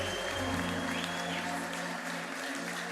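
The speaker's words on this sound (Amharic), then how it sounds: "ለጌታ ጭብጨባ ይገባዋል።" A worship congregation applauds the Lord during an Amharic service with a singer and prophet, a steady, fairly distant wash of clapping under sustained music tones and organ-like chords.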